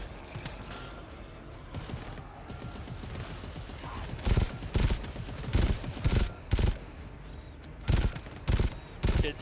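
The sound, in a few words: gunfire from the video game GTFO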